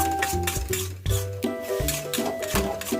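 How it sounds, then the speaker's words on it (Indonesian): Mushrooms, spices, petai and shrimp stirred in a pan for shrimp-mushroom rice, with a spoon clinking and scraping against the metal pan, close and steady, over a sustained tonal, music-like background. "Aduk kembali."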